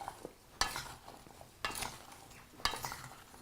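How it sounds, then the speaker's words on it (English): Vegetables with olive oil are stirred in a bowl, giving three distinct scraping strokes with soft clinks of a utensil against the dish, each followed by a brief rustle, fairly quiet and close. "just stir it around"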